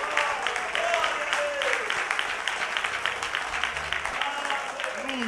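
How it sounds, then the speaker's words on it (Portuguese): A congregation applauds steadily during a church worship service, a dense patter of clapping under voices and a sustained tone from music or singing. "salva de palmas para Ele"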